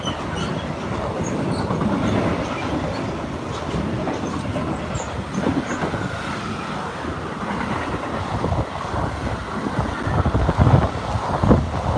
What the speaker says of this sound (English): DB Cargo Class 66. This is the Donismore to Halewood.